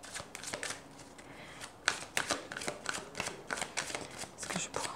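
Tarot cards being shuffled by hand, a dense run of quick papery riffles and flicks close to the listener, with no talking.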